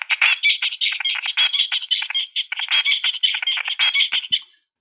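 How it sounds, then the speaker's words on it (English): Sonified spiking activity from a songbird's HVC neurons while the bird is not singing, heard as a dense stream of rapid chirping bursts, close and fairly loud, ending abruptly with no talk. "you're going to be listening to a chirping that corresponds to the spiking neurons in the HVC activity."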